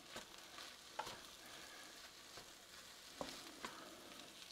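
Chilled pre-cooked rice starts to fry in a pan for egg fried rice, a faint steady sizzle broken by a few sharp scrapes and stirring clicks, with no voices.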